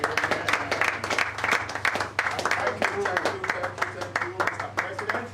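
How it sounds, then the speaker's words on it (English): An audience at a reunion party claps in a sustained round of applause for the president, steady and fairly close, with some voices mixed in. "can we give a round of applause for the President?"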